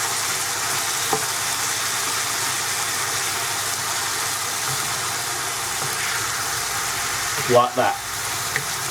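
Ground meat for lasagna sizzles in a pan while a spoon folds it and cuts through big chunks, a steady frying hiss with a couple of scraping stirs near the end and a voice speaking briefly.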